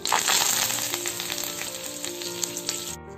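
Curry leaves hiss and crackle as they drop into hot oil for a tempering, along with dry red chilies, green chilies and turmeric, a loud close sizzle with scattered pops that holds steady, then cuts off abruptly near the end.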